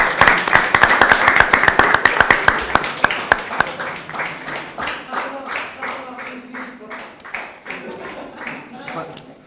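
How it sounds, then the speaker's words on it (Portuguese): Audience applause at a Portuguese talk on justice, a dense burst of many clapping hands that thins into scattered individual claps, with voices murmuring underneath. "Peço uma salva de palmas."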